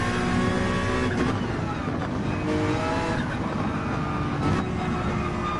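Gran Turismo 7 GR3 race car engine revving loudly and continuously, with rising and falling pitch as it shifts down through the gears.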